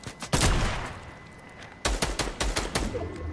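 A heavy AR in the Fortnite video game fires in two bursts of rapid, loud shots, a cluster near the start and a longer rattling string after a short pause, with no talking over it.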